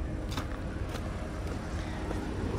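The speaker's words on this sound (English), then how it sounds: "that's a healthy engine" A 2014 Audi Q7 engine idles close by as a steady broadband rumble with a few faint ticks. There is no talk.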